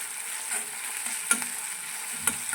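Ginger garlic paste sizzles and fries in a pan for a rustic chicken curry, a steady close frying hiss with two brief stirring scrapes, no voices.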